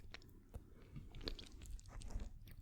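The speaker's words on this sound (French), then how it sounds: "C'est important de bien prendre le temps de mâcher aussi." Homemade french fries are chewed up close, a quiet run of crisp crunching bites and mouth sounds repeating irregularly throughout.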